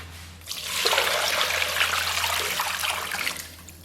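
Washed pork belly goes into a pot of water with a short gush and splash of liquid, rising quickly, holding for about three seconds, then fading, over a low steady hum.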